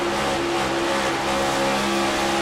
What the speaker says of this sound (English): You hear Herdina really working that throttle too